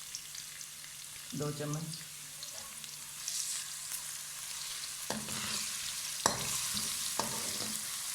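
Garlic-ginger paste hits hot ghee with onions in a pan, sizzling steadily with sharp crackling bursts and spoon stirring clatter close by, and a brief spoken phrase in the middle.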